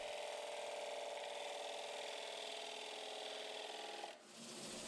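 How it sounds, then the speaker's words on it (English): Sandpaper rubs against a thin, turned wooden bowl, giving a steady, close scratchy hum that shifts and dips briefly near the end. "The piece is sanded smooth and finished off with food-safe Danish oil."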